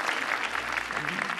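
A theatre audience applauds after a tenor's opera aria from L'elisir d'amore on a televised contest stage, giving a dense, even burst of clapping that fills the short moment.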